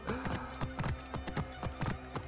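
A horse gallops in Assassin's Creed Origins, its hooves clip-clopping in a quick, steady rhythm that stays close and moderately loud for the whole stretch.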